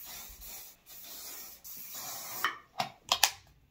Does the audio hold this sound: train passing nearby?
no